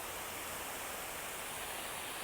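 A waterfall gives a steady, even rush of falling water, a continuous quiet roar with no breaks.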